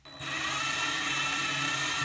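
An electric drill fitted with a 2.5 mm bit bores holes into a plate for M3 tapping, spinning up quickly then holding a steady, close, whining buzz, with no voices.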